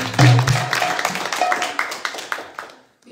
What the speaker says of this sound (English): a big clap for yourself